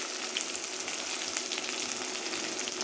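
Chopped ginger and onion hit hot oil in an iron wok after dried chilies, sending up a loud, even, continuous sizzle close by, with no voices.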